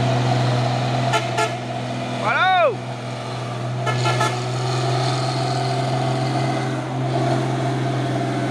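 A CPO tanker truck sounds a short, wavering musical telolet horn over the steady drone of a truck engine, with traffic noise around it and a few other horn toots nearby.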